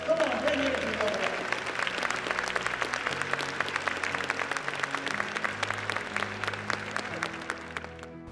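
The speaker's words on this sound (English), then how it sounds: "Give yourselves a round of applause." Audience applause at a motivational speaking event on confidence, steady dense clapping filling the hall for several seconds with a faint tonal undertone beneath it.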